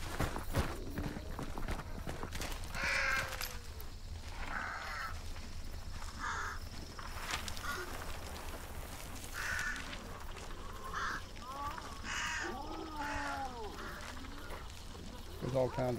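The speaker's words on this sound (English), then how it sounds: "There's all kinds of crows and stuff" Crows caw in short repeated calls across the game map of Hunt: Showdown, some near and some farther off, mixed with hoofbeat-like thuds and other game ambience while a player talks over them.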